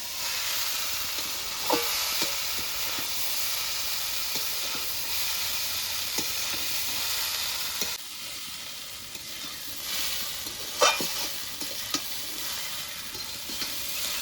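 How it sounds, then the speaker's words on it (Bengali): Chowmein noodles frying with spices in a wok, a continuous hissing sizzle broken by occasional sharp spatula clinks and stirring scrapes, fairly close and steady throughout, with no one talking. "এবার সুন্দরভাবে মশলার সাথে চাউমিনটাকে ভেজে নেব"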